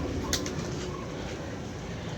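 Pigeons coo softly amid a steady outdoor background hiss, a faint, brief low burble with a short sharper sound near the start and no talking.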